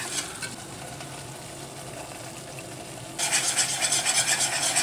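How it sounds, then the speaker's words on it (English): A roux being stirred in a pan for creamed spinach with pancetta, giving a steady scraping, sizzling sound that jumps louder and brighter partway through, with no talking. "We're creating a roux, which is going to thicken our sauce"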